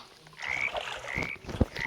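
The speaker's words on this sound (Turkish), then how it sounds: "Lan kurbağalar geldi." Frogs croak repeatedly in a Roblox video game, a string of raspy calls at moderate volume against a faint ambient background, with one sharper thump near the end.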